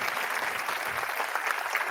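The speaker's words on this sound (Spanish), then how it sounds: "Un aplauso para Andrés." An audience gives a short burst of steady, dense applause for a guest speaker at a science talk, continuous clapping from a crowd of people without pauses or voices.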